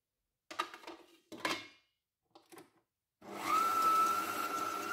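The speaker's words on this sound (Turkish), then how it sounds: "Öncelikle yumurtayı ve şekeri çırpıyoruz" Electric mixer whisking eggs and sugar for a cocoa cake batter, starting after a few short clattering bowl sounds and then running as a steady, loud continuous whir with a rising whine.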